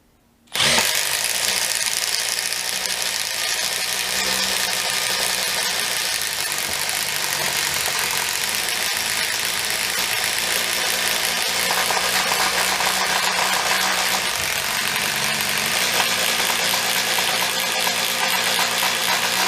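A Milwaukee M12 FID Gen2 impact driver works at 22mm size under heavy load, giving a loud, unbroken mechanical whir and rattle that runs steadily for nearly twenty seconds after a sudden start.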